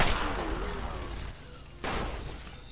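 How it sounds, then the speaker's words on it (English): Assault rifle gunfire in Fallout 3, loud dense bursts of shots that stop briefly in the middle and then resume as a second volley. "we'll pull out the assault rifle"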